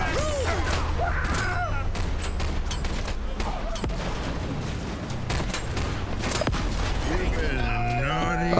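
Rapid explosions and gunfire-like bursts in a GTA-style action game, loud and continuous with sharp repeated impacts and game tones layered over a steady low rumble.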